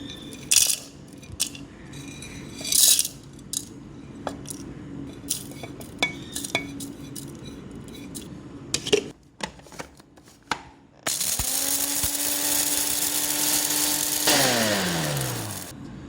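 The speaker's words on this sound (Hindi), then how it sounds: "पीस लेंगे इस मसाले को।" Cloves, green cardamom, nutmeg and mace are ground into biryani masala in an electric grinder: scattered clatter and knocks first, then a loud, steady motor whir for about three seconds that winds down abruptly.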